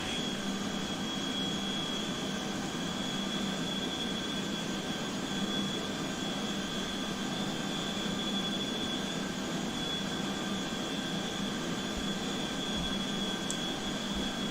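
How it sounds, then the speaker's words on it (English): A NATO E-3 Sentry jet engine drones in a flight simulator game as a constant, loud, even roar with a steady high whine, unbroken for the whole stretch and with no talking. "you need to listen to this like old school engine noise"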